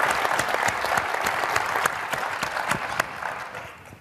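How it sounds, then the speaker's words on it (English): A lecture-hall audience at a Ford School program on sports and social policy gives a full round of applause. Dense, steady clapping lasts about three seconds and then thins out toward the end. "Please give him a round of applause."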